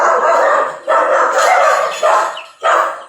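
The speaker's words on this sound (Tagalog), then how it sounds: "May aso." A dog on a farm barks four times in short, loud bursts nearby, with brief gaps between the barks.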